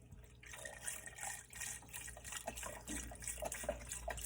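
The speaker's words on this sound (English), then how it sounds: "We're going to add a lot more flavor by adding the beef broth. And go ahead and add the entire contents." Beef broth pours into a stew pot with a soft, continuous splashing trickle, quiet and close, for a few seconds.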